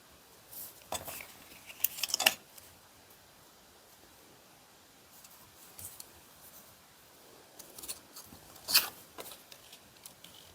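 Scissors snip through paper while making Valentine crafts, with a few short, quiet cutting bursts spread across a hushed room.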